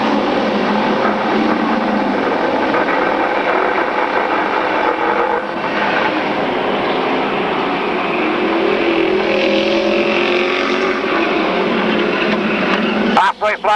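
Stock cars race around an oval track, their engines roaring in a steady loud wash that swells and fades as the pack passes, with a race announcer talking over the noise.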